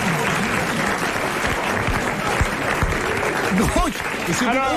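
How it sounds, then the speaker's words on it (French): A studio audience applauds a winner on the French radio comedy panel Les Grosses Têtes in 1993: loud, dense clapping fills the whole stretch while voices talk and exclaim over it. "Le regagnant mérite d'être applaudi."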